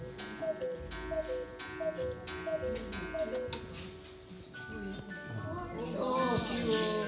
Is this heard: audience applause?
no